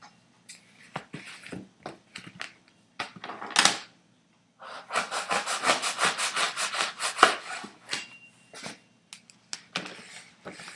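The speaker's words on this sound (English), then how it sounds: "So you take your knife and you cut all the way through." A knife saws through a foam pool noodle, giving a burst of scraping, rubbing strokes with a few short cuts around it. The sound is close and moderately loud, with no talking.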